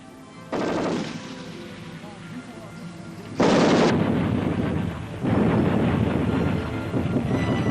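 A Canadian Forces C-7 rifle and C-9 light machine gun fire 5.56 NATO ball ammunition in loud, sustained automatic bursts, three long stretches of rapid fire.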